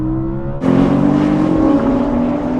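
A new Porsche 911 launching hard in a drag race, a loud, close engine note that jumps suddenly into a fuller, rising roar as it accelerates and holds strong to the end.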